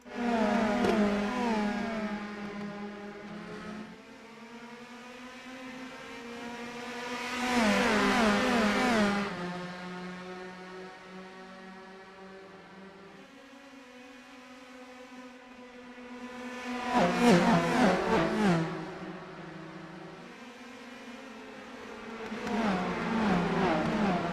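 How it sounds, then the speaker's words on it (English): Race car engines from an iRacing event rumble as the pace car heads into pit lane, with a low, steady idle-like drone broken by two loud, rising bursts of revving as the cars accelerate. "So the pace car going to make its entry into pit lane."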